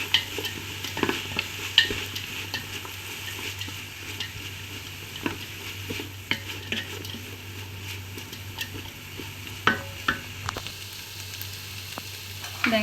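Chilli flakes being stirred into chicken kottu in a pan, with a steady sizzle under repeated scraping and clinking strokes of a utensil, close and fairly loud, with no talking.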